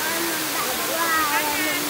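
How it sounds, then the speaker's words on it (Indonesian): Peteri Pintu waterfall roars as a steady, dense rush of falling water close by, with faint voices in the background. "Air terjun?"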